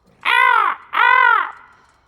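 Two loud, harsh crow caws in the fantasy video game Might and Magic Heroes VI, each about half a second long with a short gap between them, close and clear against silence.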